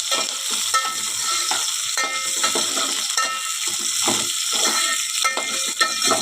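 Sliced onion and green chillies fry in oil in a pan, a steady close sizzle under repeated scraping stirs of a spatula, with no one talking.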